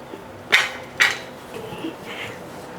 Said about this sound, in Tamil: ஒரு மூடி போட்டு மூடிடலாங்க.